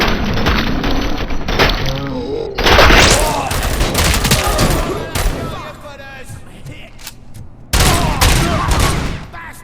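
Heavy gunfire in RoboCop: Rogue City, loud rapid volleys of shots and cracking impacts that come in dense bursts, with brief lulls between them.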